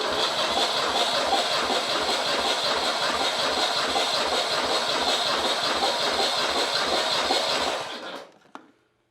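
Engine of a Porsche 911 Carrera 3.2 cranking over with the throttle wide open during a compression test, a loud rhythmic starter churn with regular pulses that runs steadily for several seconds, then winds down and stops.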